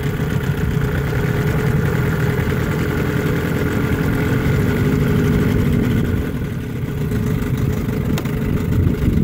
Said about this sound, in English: Okay, I'm gonna get it going. Again, starts easy. First pull, set up the throttle just a little bit. Idles well.